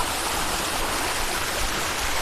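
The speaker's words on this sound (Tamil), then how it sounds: "நல்லா தண்ணி வருது" Mountain stream at Thiruvannamalai rushing steadily, a dense, continuous broadband roar of flowing water close by, with no voices over it.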